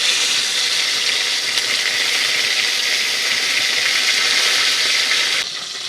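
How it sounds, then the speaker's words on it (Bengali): Crab pieces, Sundarban king crab, sizzle in hot oil with a steady bright hiss that holds evenly, then drops off abruptly just before the end. "এবার কাঁকড়া পিসগুলো গরম তেলের মধ্যে দিয়ে দেওয়া হচ্ছে।"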